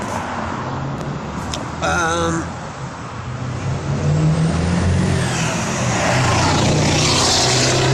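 A loud car engine roars past outdoors, a steady low rumble that swells and builds toward the end, with a brief voice early on.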